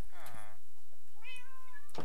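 Kitten in the Balloon Adventure video game gives two short meows, one near the start and one after a pause, close and clear, with game background sound beneath.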